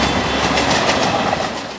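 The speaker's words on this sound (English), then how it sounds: "We're here in Mumbai, India, where we're riding the public train system." A public commuter train in Mumbai, India rumbles along in a loud, continuous wash of rail noise and rattling carriage clatter, fading slightly at the end.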